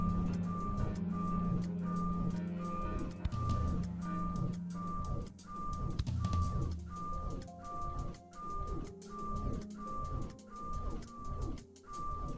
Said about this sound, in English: Please listen carefully for the sound of an alarm clock,